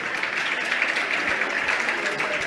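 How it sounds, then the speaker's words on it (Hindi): Children in an audience clap together during a spiritual question-and-answer gathering: a dense, steady wash of many hands, moderately loud and unbroken for the whole stretch. "बच्चे भी ताली बजा रहे थे"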